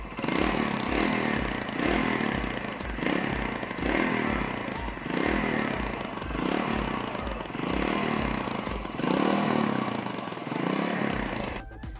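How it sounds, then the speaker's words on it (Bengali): A TVS Radeon motorcycle engine idles steadily and close, a loud pulsing thrum with a regular beat that holds for several seconds before briefly fading, with no talk over it. "বাট এই বাইকটার সাউন্ড যদি শোনেন তাহলে আপনাদের কাছে একটু অন্যরকম ফিল হবে।"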